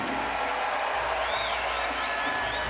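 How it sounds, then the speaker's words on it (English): Crowd applause at a judo Grand Slam final in Tel Aviv, steady clapping from a large arena audience, moderate and a little distant, with faint cheering and commentators talking over it. "we got the round of applause there"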